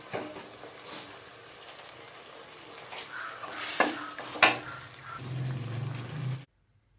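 Mussels stir-fried with basil, soy sauce and oyster sauce in a pan give a continuous close sizzle with stirring scrapes, a couple of louder clanks of utensil on pan midway, then sudden silence; no talking.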